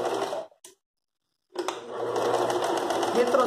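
A sewing machine stitches a seam on a floral rug, running in a loud steady whir, briefly stopping, then resuming for a longer continuous run.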